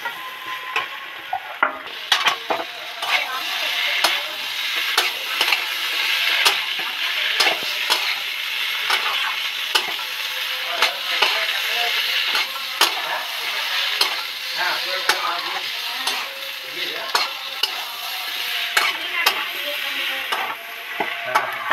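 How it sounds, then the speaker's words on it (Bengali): Elephant foot yam frying with ginger in a pan, a loud continuous sizzle under frequent scraping stirs and clicks of a spatula against the pan, close and steady throughout. "অল্প পরিমাণে আদা অ্যাড করছি, ভালো করে নেড়ে চেড়ে মিশিয়ে দেবো।"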